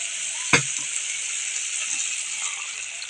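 Masala spices frying in oil after water is added, giving a steady bright sizzle throughout, with one sharp clink of a utensil near the start.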